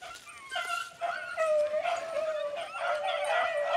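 Beagles baying while trailing a swamp rabbit during a Kentucky small-game hunt: a pack of hounds yelping and howling together in a continuous overlapping chorus, moderately distant.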